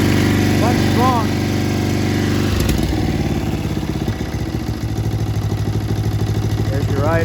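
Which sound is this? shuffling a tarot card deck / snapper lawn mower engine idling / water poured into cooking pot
snapper lawn mower engine idling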